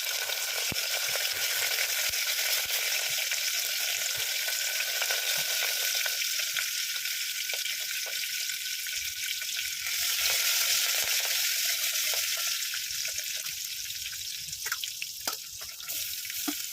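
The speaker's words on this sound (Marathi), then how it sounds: "कढीपत्ता चांगला व्यवस्थित तेलात परतून घेऊ आपण" Curry leaves, turmeric and chopped chillies sauté in hot oil with a loud, steady crackling sizzle throughout, broken by occasional stirring clicks, and no voices present.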